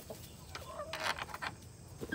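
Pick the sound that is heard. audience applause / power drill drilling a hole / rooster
rooster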